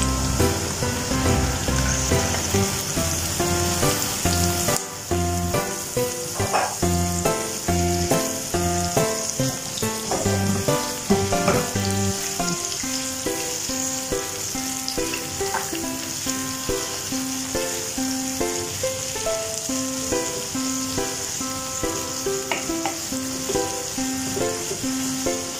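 Broccoli stir-fries with beef in a hot pan, a steady close sizzle and crackle that runs throughout with faint tonal sounds underneath.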